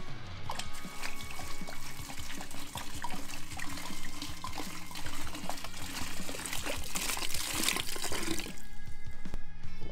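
Vodka from two bottles glugs into a party punch with apple and orange chunks. A continuous splashing pour runs close and loud with some bubbling, then cuts off near the end.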